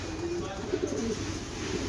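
Young racing pigeons, offspring of birds flown in 500-kilometre races, coo softly in a loft, a few low murmuring calls fairly close against faint background noise.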